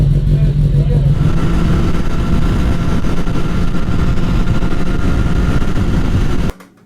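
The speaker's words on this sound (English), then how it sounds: "Now it's time to get back on the bikes and head home." Motorcycles setting off and riding on a UK road, a loud continuous engine drone with rising throttle and wind rush that cuts off abruptly near the end.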